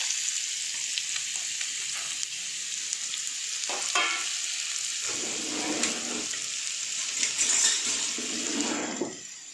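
Thin strips of raw mango dropped into a hot pan, bursting into a loud sizzle with clatter as they land, the hiss swelling and settling with stirring scrapes over several seconds, no talking.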